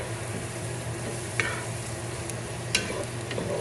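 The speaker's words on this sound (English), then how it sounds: "I'm gonna continue to mix with my wooden spatula so that the ingredients doesn't burn the bottom of my pot" A wooden spatula stirs onions and chopped Roma tomatoes in a pot over medium-high heat for a vegetable biryani, giving a steady low sizzle with a couple of brief scraping clicks and no talk.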